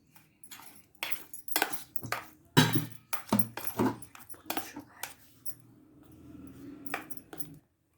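A spoon stirs smashed ingredients in a bowl for a no-cook recipe, giving irregular clinks and scrapes in uneven bursts, with quieter rustling stirring toward the end.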